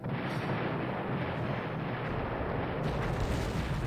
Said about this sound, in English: a rocket barrage comes down